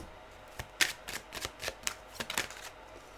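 Tarot cards being shuffled and drawn during a weekly reading, a series of soft, crisp riffling and slapping card sounds at an uneven rhythm, fairly quiet and close, with no talk.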